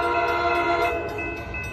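An Amtrak Capital Corridor passenger train led by an F59PHI locomotive rolls past close by at Alvarado Street, San Leandro, a loud steady rumble with a sustained horn-like tone, no voices.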